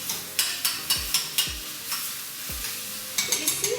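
Chilies tossed into a sizzling garlic tarka and stirred, a continuous hot-oil sizzle punctuated by a series of sharp spoon scrapes and knocks against the pan.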